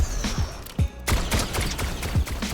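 Rapid gunfire in Fortnite aimed at an airship, a handful of sharp shots fired in quick bursts with short gaps, moderately loud over faint game ambience.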